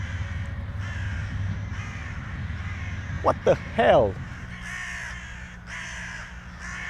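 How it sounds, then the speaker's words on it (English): Crows cawing outdoors in cold weather: a few loud harsh caws in a quick cluster near the middle, over steady background noise, with someone talking before and after. "These crows, man,"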